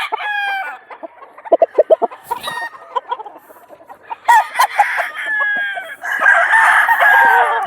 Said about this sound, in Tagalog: this is another Bruce Barnett sweater broodcock